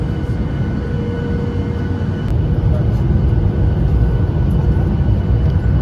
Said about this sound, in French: Alors, Paul, ça va l'atterrissage?